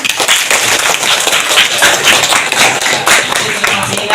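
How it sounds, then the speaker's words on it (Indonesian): A classroom full of students claps together in a dense, steady burst of applause, loud and close throughout. "Ya, tepuk tangan."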